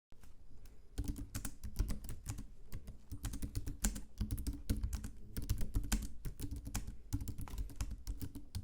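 Rapid typing on the membrane keyboard of a Gigabyte AERO 16 OLED (2023) laptop with 1.7 mm key travel: quick, soft clicking keystrokes in irregular bursts, close and fairly quiet, with no voices.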